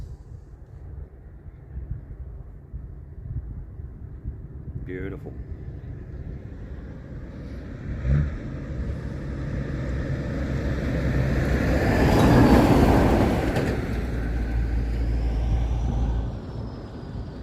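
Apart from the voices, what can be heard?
truck driving past on road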